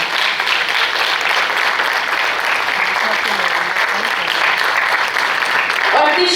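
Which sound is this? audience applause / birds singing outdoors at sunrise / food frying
audience applause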